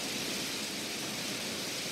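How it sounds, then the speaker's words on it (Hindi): Heavy rain as a stage effect in a Hindi one-act play: a dense, unbroken hiss of downpour, loud and steady throughout, with no voices over it. "आज छाता घर पर भूल गया तो इतनी तेज बारिश"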